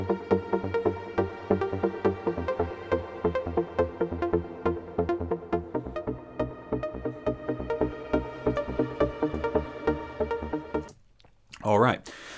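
A synthesizer patch drenched in delay and plate reverb plays a rhythmic run of bright, repeating notes for about eleven seconds, echoes trailing behind each hit, before a short burst of someone speaking at the end.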